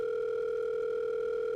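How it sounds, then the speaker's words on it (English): A telephone line tone sounds as a steady, continuous electronic hum-like tone, loud and unbroken for the whole moment with nothing else heard. "At the 4th one, right as it's about to switch to another intercept message, the line finally rings."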